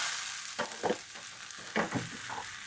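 Food for chicken khichuri frying and being stirred in a pan, a soft steady sizzle broken by several short scraping stir strokes, close and fairly quiet with no talking.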